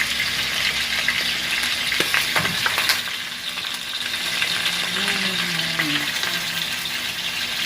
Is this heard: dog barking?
no